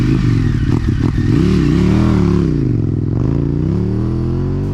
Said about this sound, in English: Its exhaust note is how I think motorcycles should sound. In my opinion, this V-twin is for motorcycles what V8 motors are for cars.